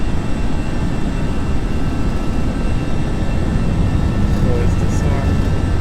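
Simulated easyJet A320 jet engines at takeoff power, a loud steady broadband roar filling the whole stretch without letup.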